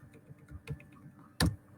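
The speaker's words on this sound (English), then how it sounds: "I'm just typing something here." Light typing on a computer keyboard: soft, scattered key clicks, quiet and close, with one sharper, louder keystroke near the end.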